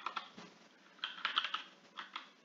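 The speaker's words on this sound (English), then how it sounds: "if I tried to type in safety" A computer keyboard is typed on in short clusters of clicky keystrokes, quiet and close, with small pauses between bursts and no voices.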